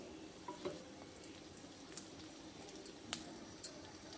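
Seasoning spices spluttering in hot oil in a kadai, heard as a faint steady sizzle with a handful of soft, scattered pops and crackles.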